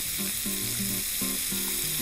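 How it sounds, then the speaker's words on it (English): Food browning in a really hot pan, sizzling and crackling continuously and loudly up close, with a few faint tones from a voice or utensil underneath. "while that's sizzling away"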